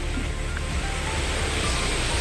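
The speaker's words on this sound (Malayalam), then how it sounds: "ഇത് നല്ല മനോഹരമായിട്ടൊരു വെള്ളച്ചാട്ടം." A waterfall in Kerala that has a natural rock slide: an even, broadband rushing roar of falling water, steady and close, with no talking.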